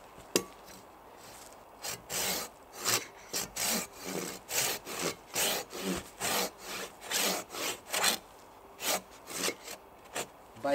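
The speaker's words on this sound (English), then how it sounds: "Let's get sawing a bit." A Silky BigBoy 2000 handsaw cuts through wood in steady, rhythmic strokes, about twenty close, crisp rasping pulls and pushes with short pauses between them, no talk.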